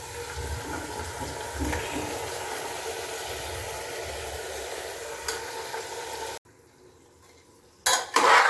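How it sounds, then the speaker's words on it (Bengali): A spoon scrapes and clinks in a pot as marinated meat is stirred over fried onions for yakhni pulao in a pressure cooker, a soft continuous sizzle under the utensil sounds, then a brief pause and a louder clatter. "মাংসটা ভালো করে কষিয়ে নেব।"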